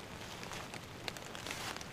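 Light rain falling in autumn woods on Thanksgiving Day, a steady soft patter of drops with a few brief sharper ticks close by, no voices.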